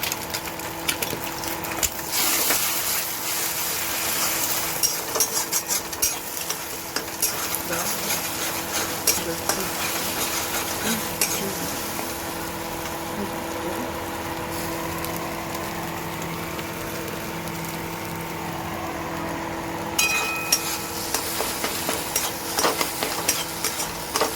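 A salted egg fries in hot oil in a wok, giving a continuous, close hiss and sizzle with faint scraping stirs throughout, without any clear talk over it.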